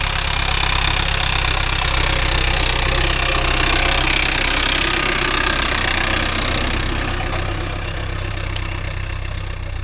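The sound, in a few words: vehicle engine running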